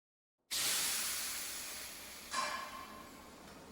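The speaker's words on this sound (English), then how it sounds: "Warm steam billowed around them, enveloping the area in a thick mist" Steady hiss of warm steam billowing into a thick mist, starting abruptly and holding loud and close, with a brief swell of hiss partway through.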